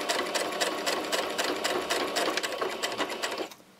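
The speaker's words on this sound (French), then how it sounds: "Quelques points arrière." A sewing machine runs a few backstitches on a patchwork coaster, giving a fast, even mechanical clatter of needle strokes heard alone and close, stopping abruptly at the end.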